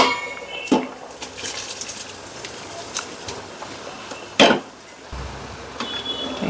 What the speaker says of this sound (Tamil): இதில் ரைஸ் சேர்த்துக்கலாம்.